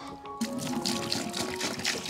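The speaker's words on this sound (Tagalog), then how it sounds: "So magbutang ko direk tubig." Water pouring steadily into a container, a continuous splashing trickle after a brief quiet start.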